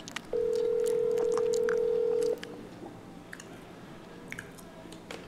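A telephone sounds one steady electronic tone lasting about two seconds, loud and clear, followed by faint clicks and soft eating noises at a mukbang meal.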